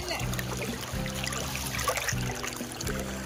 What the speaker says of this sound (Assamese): পানীৰ এই কলকলনি